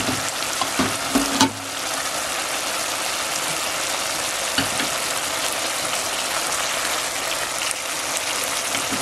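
Sliced chayote sizzles and fries in a pan for a ginisang chayote sauté, a steady dense crackle with a few louder pops and clatters near the start, close and continuous with no talking.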